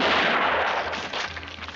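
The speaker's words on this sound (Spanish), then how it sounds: "Sonando el destello de los cañones y el eco de los disparos en el aire." A gunshot rings out during the final three-way duel of Sergio Leone's western The Good, the Bad and the Ugly. It is a loud, sharp burst with a long, rolling echo that slowly fades over nearly two seconds, with no voices.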